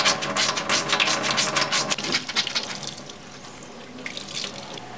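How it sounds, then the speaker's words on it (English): Shoelaces from dumpster-salvaged sneakers being washed under a running tap in a sink with dish soap, steady splashing water close by with shifting bursts as the laces are rubbed, no talking. "Decided removing these and washing them in the sink was the easiest way."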